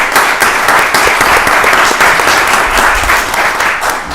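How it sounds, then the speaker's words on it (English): An audience at a Rockdale County Board of Commissioners voting session applauds the county road crew, a dense, steady wash of many hands clapping close by that holds at full strength for the whole stretch. "can we give our RDOT crew a round of applause?"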